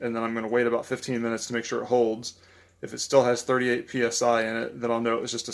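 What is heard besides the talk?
No distinct noise like a dog, phone or traffic.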